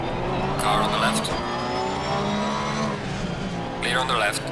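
A Porsche GT3 R race car in a GT3 sim race at the Nurburgring, engine droning steadily with rising and falling revs as another car passes close by, with brief bursts of speech over it.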